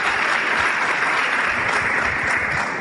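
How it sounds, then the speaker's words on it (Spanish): Seminar audience applauding steadily and loudly throughout, a dense even wash of clapping with no speech over it. "un aplauso tremendo a estas personas."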